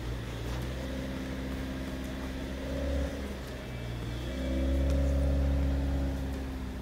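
A Hyundai Creta or Renault Duster engine strains up a small sand incline in all-wheel drive with traction control on, droning steadily and swelling twice under load, with no talking.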